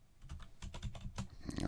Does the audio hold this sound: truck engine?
no